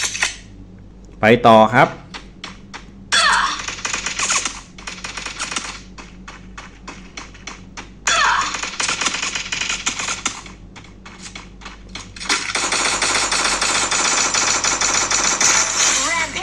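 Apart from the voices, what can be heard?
gunfire in a video game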